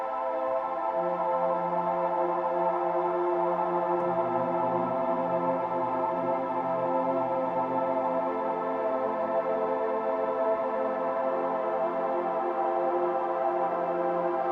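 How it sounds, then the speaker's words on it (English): Sustained 8-voice polyphonic synth chords from a Percussa SSP Eurorack module, drenched in lush reverb, with steady layered harmonic tones holding at an even loudness throughout, no voices present. "This is just an 8-voice"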